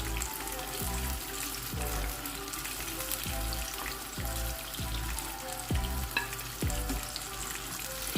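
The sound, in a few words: Lahori fish frying in oil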